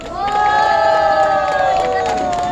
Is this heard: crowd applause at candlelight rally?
yes